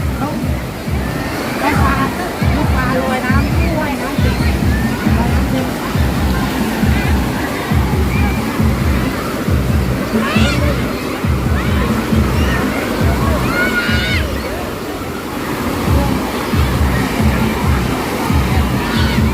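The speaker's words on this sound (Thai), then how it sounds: "เป็นปล่อยมาเป็นคลื่นแบบเหมือนทะเลนะเพื่อนเนาะ" Water sloshes in waves inside a fish tank, repeating rhythmic surges of splashing and churning, loud and close, with faint voices mixed in.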